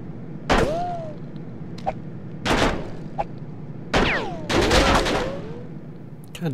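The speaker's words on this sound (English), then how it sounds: "Gunfights." Video game gunfight with several loud, sharp gunshot bursts, close and echoing, spaced irregularly with short pauses between volleys and quieter ringing tails.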